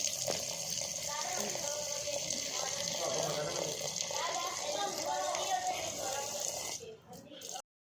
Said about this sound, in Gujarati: થોડું પાણી રેડીશું આપણે